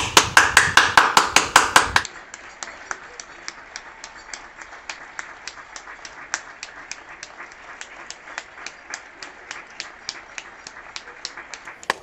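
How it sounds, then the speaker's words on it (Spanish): Applause for the families: about two seconds of loud, rhythmic, close handclaps, then a long run of fainter, steady, evenly spaced taps continuing to the end. "Y este aplauso va para todas las familias"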